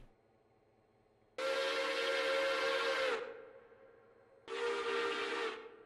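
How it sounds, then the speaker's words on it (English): A Nathan six-chime steam whistle in the video game Railroader gives two loud, close blasts: a long one of nearly two seconds, then after a short pause a second of just over a second, each with a full chord and breathy hiss. "We got a Nathan six chime"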